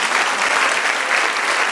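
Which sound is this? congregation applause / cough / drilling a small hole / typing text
congregation applause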